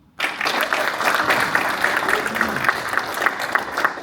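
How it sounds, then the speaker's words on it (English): Audience at a Texas Cyber Range fall demo day breaks into dense, steady applause for a closing keynote speaker, starting abruptly and holding at an even level throughout. "Round of applause."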